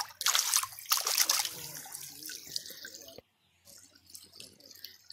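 Water splashes and trickles loudly while horn coral fossils are rinsed off outdoors in southern Ohio, with a brief pause before quieter dribbling resumes.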